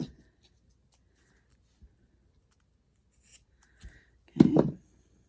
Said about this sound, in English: So what I do is I cut a piece.